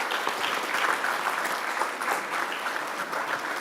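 An audience at a SANParks Vision 2040 indaba applauds in steady, moderate clapping with no voices over it.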